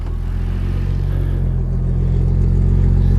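A Nissan Skyline R32 engine idles steadily after a flat battery, a continuous low rumble with a faint mechanical whir, close and fairly loud, with no voices over it.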